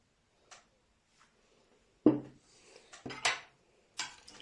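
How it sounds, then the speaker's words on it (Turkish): A spoon knocks and scrapes against a bowl while yogurt and oil are stirred into pre-fermented yeast dough for bazlama, giving a few scattered clinks and thuds separated by quiet pauses. "bu şekilde karıştırıyoruz"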